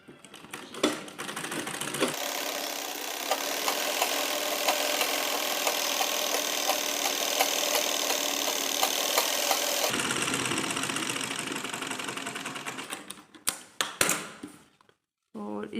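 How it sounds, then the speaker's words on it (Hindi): A sewing machine runs a straight seam on a Patiala salwar, its motor whirring steadily for several seconds at close range, with brief stops and starts before and after the continuous run. "इस तरह से यहाँ पर हम सीधी सिलाई कर लेंगे।"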